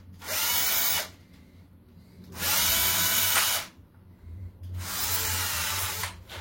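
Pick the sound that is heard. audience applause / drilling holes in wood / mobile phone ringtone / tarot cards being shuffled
drilling holes in wood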